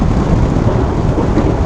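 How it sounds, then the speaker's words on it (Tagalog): Heavy rain with large drops pours down in Baguio, a dense, loud continuous roar of rainfall with a low rumble of thunder mixed in, no voices. "Kusog, parang umuulan na."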